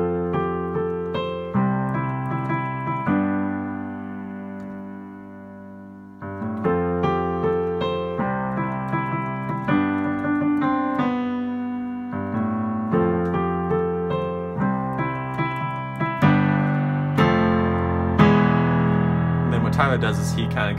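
Piano playing the second part of a song, with steady chord progressions and rhythmic repeated notes, clear and close with a short pause midway.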